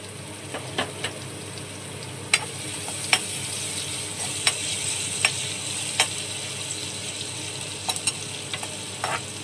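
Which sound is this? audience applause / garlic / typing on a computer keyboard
garlic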